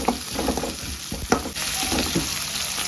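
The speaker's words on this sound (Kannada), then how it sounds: "ದೊಡ್ಡದಾಗಿ ಹಚ್ಚಿರುವ ಈರುಳ್ಳಿಯನ್ನು ಹಾಕಬೇಕು. ಜಾಸ್ತಿ ಫ್ರೈ ಮಾಡೋದು ಬೇಡ" Onions cut in large pieces sizzle in a few spoons of hot oil for gobi manchurian gravy, a steady close crackle broken by scraping stirs and a sharp spoon knock partway through, with no voices.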